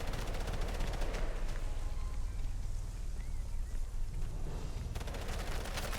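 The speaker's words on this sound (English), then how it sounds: "Other MG's opening up from the left side." Machine guns fire in a World War II video game, dense continuous bursts of gunfire from several weapons at once, loud and sustained throughout with a battlefield rumble underneath.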